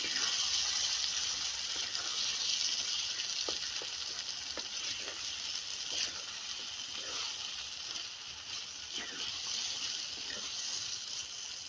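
Roasted eggplant being stirred into a pan of frying masala and softened peas, giving a steady close sizzle with scattered scraping and clacking from the spoon, and no voices.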